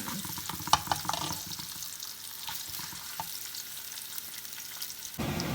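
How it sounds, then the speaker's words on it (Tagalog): Garlic sautés in oil in a pan with a soft, continuous sizzle, broken by occasional stirring scrapes and taps, close and fairly quiet with no voices. "igisa natin ang ating bawang hanggang mag-golden brown"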